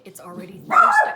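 A pet dog barks once or twice near someone speaking at home, the yip rising sharply over her voice.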